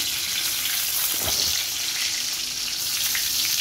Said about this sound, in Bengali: এবার কড়াইয়ের মধ্যে তেল দিলাম এবার তেজপাতা দিচ্ছি জিরা দিয়ে দিলাম